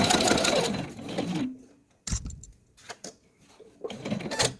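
Sewing machine stitching quilt fabric scraps, with a dense burst of running stitches up front, a slowdown near a pin, then short stop-start runs of stitching close by.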